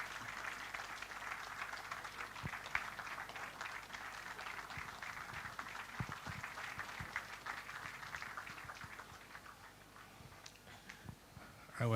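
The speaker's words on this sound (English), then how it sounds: "join me with a big applause to welcome our esteemed guest of honor" Scattered, moderately distant applause from a crowd welcoming a guest of honor at a Rotary installation ceremony, a loose, uneven patter of clapping held fairly steady throughout.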